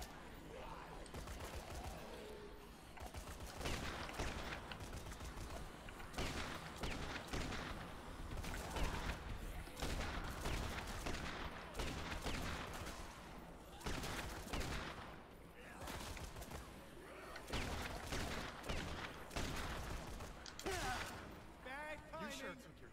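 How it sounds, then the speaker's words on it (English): A grenade launcher fires at zombies in a video game amid a dense barrage of gunfire and thumping blasts, loud and continuous throughout, with voices talking over it. "Man, this is so much better with a grenade launcher."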